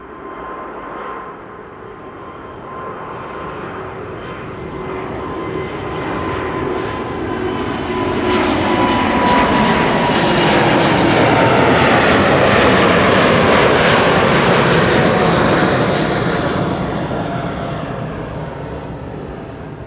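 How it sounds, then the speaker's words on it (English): A Turkish Airlines Airbus A350-900 at Amsterdam Schiphol Airport passes with its jet engines swelling into a broad, loud roar, peaking midway, then slowly fading as it moves off into the distance. "This is Turkish Airlines, flight 1952 to Istanbul in Turkey. A350-900, the TCLGI,"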